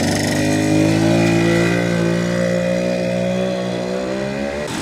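A Suzuki TM 400 motorcycle engine revs close by, loud and rough with a strong buzzing drone, held high and then easing down near the end.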